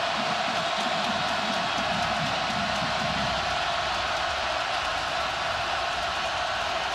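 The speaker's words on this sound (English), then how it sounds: "This crowd is going crazy." A roaring football stadium crowd at a Virginia Tech versus Miami college game, a steady, dense wall of cheering and noise that holds at full intensity throughout.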